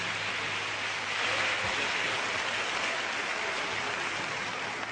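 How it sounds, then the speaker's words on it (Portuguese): A church congregation applauds during an evangelical service, a steady, fairly faint wash of clapping that sounds like rain and keeps an even level throughout. "eu gostaria que você também aplaudisse ao Senhor pela vida dos servos de Deus, pastor Marco Feliciano."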